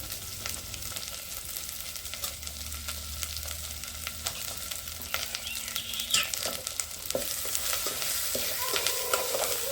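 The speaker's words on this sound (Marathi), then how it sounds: "तर आता मस्त असं परतून घेते मी" Chicken with turmeric and spice masala is sautéed in a pan over a village wood-fired stove, giving a steady sizzle broken by irregular scraping stirs that grow slightly louder toward the end, with no voices.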